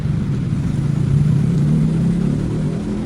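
City traffic jam in the capital, a steady low rumble of idling and creeping car engines with a brief swell of revving midway, continuous and close, no voices.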